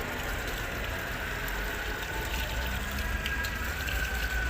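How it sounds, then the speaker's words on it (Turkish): Water from a garden hose, not a pressure washer, sprays steadily over a motorcycle engine during cleaning, a continuous close splashing rush with no talk. "İşin püf noktası hortumla yıkamak. Basınçlı motorla değil arkadaşlar."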